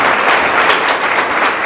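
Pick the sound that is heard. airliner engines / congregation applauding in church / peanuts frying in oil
congregation applauding in church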